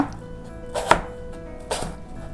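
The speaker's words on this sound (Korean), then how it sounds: "이런 식으로 해서 먹기 좋게 썰어 놓을게요." A knife slices through an apple on a board, two distinct cuts about a second apart, crisp and close, each followed by a short scrape, with quiet between and no voices.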